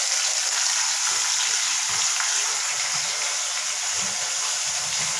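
Chicken pieces frying in hot oil, a steady, loud, close sizzle with crackling that continues evenly throughout, no voices.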